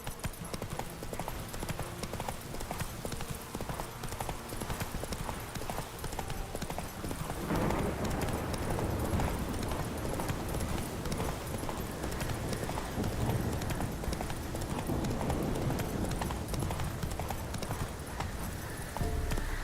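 Horse hooves in The Witcher 3 clip-clop steadily, then quicken into a louder, denser galloping beat against outdoor game ambience, with little talk.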